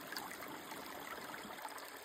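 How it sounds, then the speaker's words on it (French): A small stream flows through spring woodland undergrowth, a steady soft trickling and babbling rush of water, even and continuous at low level with no voices. "on a un petit ruisseau"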